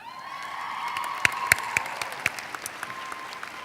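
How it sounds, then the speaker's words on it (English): Audience applause greeting award recipients at an education awards ceremony, steady close clapping from a crowd with a few sharp louder claps, continuous throughout. "Award recipients, please stand as I call your names and remain standing so that we may salute you with a round of applause."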